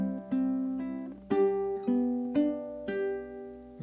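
Ukulele picking strings 3 and 2 and then strumming, in a slow, even pattern of plucked notes and ringing strums, close and clean with no talking.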